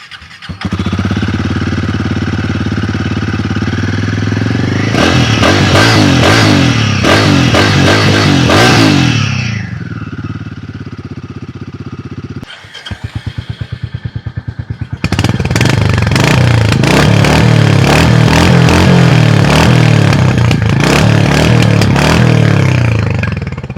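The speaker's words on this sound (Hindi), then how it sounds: "अब गाइस दोनों बाइक का एग्जॉस्ट सुन लेते हैं" Exhausts of a Royal Enfield Hunter 350 and a Guerrilla 450 are heard in turn, loud and close. One engine idles and revs in sharp bursts, then cuts off, and the other starts and thumps through its own throttle blips.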